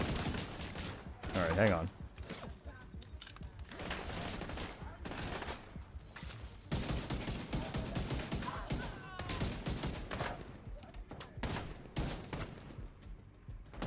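Turrets in a shooter game fire in rapid, dense bursts that run almost without pause, loud and close, with a brief spoken remark over the gunfire.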